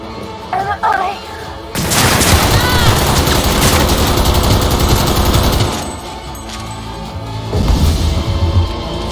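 Machine gun fire in the video game Cyberpunk 2077 inside a club rips out in long, loud, rapid bursts with booming impacts, preceded by brief quieter game sounds and broken by a short pause before firing resumes.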